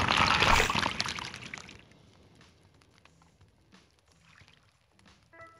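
In the video game Draw A Stickman Epic 3, water is poured in a loud, splashy gush that quickly dies away to faint trickles and small drips.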